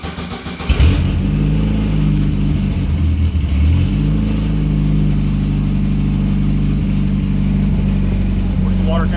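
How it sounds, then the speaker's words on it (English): An aircraft engine on the Flying Moose cranks briefly, then catches and settles into a loud, steady idle with a constant low drone that runs uninterrupted to the end. "but it'll turn off as soon as the engine cranks up."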